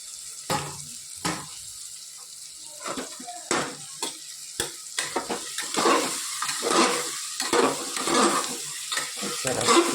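Vegetables and potatoes stirred in a hot pan, with irregular scraping strokes of a utensil against the metal over a steady sizzle, close and fairly loud.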